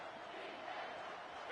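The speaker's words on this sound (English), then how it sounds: "Here comes this home crowd as the defense tries to get off the field on third down" A home crowd at a Michigan football game roars on third down, a loud, steady wall of cheering that holds without a break from start to finish.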